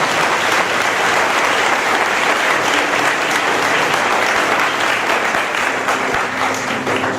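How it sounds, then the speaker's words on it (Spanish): A church congregation at a conference claps loudly and continuously, a thick even wash of applause from a large crowd filling the hall throughout with little variation, easing slightly near the end. "Los que le dan un aplauso fuerte a Jesús"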